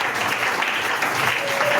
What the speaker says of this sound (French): On acclame d'abord le Seigneur.